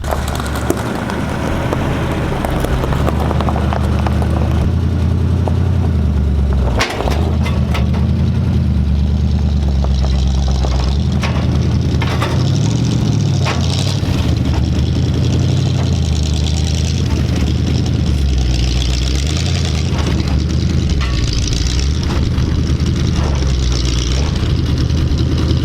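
A 1965 Ford Mustang's engine runs at a steady, loud idle while the car is being loaded, a constant low rumble with occasional knocks and voices over it.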